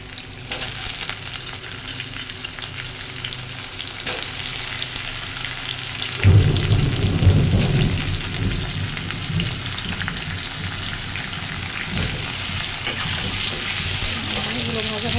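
Cut potatoes fry in a pan with reddened onions for a paneer and vegetable curry, giving a steady, loud sizzle and crackle, with a burst of stirring scrapes midway and a voice speaking at times.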